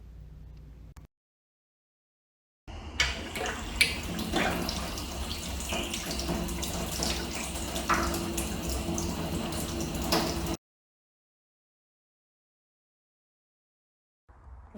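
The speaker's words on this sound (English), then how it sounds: "it's time to fill the thing up with water and make sure that it'll hold" Water pours from a hose into the water tray of a CrossFire XR plasma table, a steady splashing rush lasting several seconds between stretches of silence.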